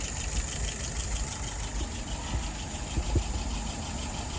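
An engine idles at about 700 rpm, a steady low rumble with an even pulsing throb and no breaks, close by with no talking.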